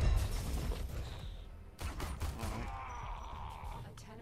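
Pistol shots at practice targets in the video game Warframe: a handful of sharp, separate gunshots spaced out over a few seconds, close and fairly loud, alone without talk.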